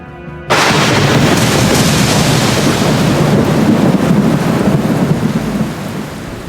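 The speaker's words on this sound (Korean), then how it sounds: "하나님, 천둥 번개와 비를 내려주십시오." A thunder, lightning and rain effect bursts in after a brief near-silence, then a loud, dense roar of heavy rain with rumbling thunder that holds steady and eases slightly at the end.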